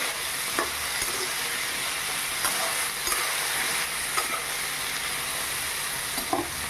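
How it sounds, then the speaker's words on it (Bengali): A spoon stirs turmeric powder through hot oil in a frying pan, a steady close sizzle and hiss with a few soft scrapes of the utensil against the pan, no voices. "এবারে এর মধ্যে দিয়ে দেব হলুদের গুঁড়ো সামান্য পরিমাণ একটু আবার নেড়ে চেড়ে নেব কিছুক্ষণ ধরে"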